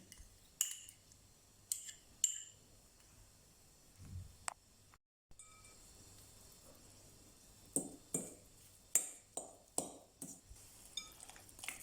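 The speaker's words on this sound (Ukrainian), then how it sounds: "Додаємо майонез і перемішуємо все до однорідності" A spoon scrapes and clinks against a bowl as garlic is mixed into mayonnaise, giving faint, scattered taps and short ringing knocks with quiet pauses between them.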